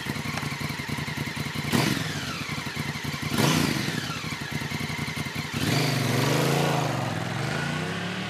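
A motorcycle rides past with engine revving and shifting, rising and falling pitch sweeps through several gear changes, loud and close, with no voices.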